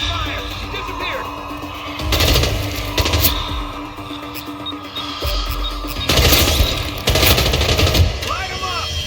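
Gunfire in the Hitman video game comes as bursts of rapid shots in two clusters over steady background noise, with in-game voices shouting between them.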